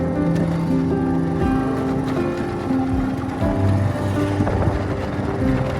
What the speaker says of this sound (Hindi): मेरे मोटरसाइकिल की आवाज़